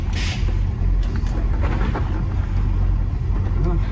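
A car with a freshly repaired transmission pulls away under power, a steady engine rumble and road noise close by throughout, with people talking over it.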